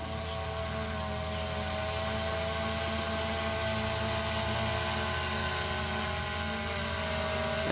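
A DJI Phantom 2 quadcopter hovers overhead, its rotors making a steady, loud whirring drone with a constant pitch throughout, with no talk over it.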